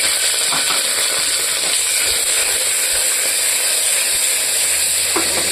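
Tomato goes into a pan of browned onions and sizzles loudly and steadily, with a bright hiss and faint stirring scrapes throughout.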